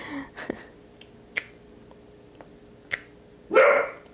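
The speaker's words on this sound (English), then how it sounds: "What are you barking at?" A pet dog indoors at home gives a loud, close bark at the end, after a few sharp, sparse snapping clicks in a quiet room.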